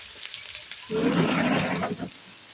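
Sliced onions hit hot oil in a pan and sizzle loudly, a sharp burst of frying that starts suddenly about a third of the way in, holds steady, then tapers off near the end.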